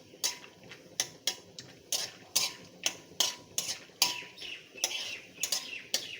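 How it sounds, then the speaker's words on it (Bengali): Peanuts being fried in oil and stirred, a rapid series of sharp metallic scrapes and taps of a utensil in the pan, nearly regular at about two per second, over a faint sizzle with no talk. "বাদামটা একটু নেড়ে চেড়ে ভেজে নিয়েছি তেলের মধ্যে"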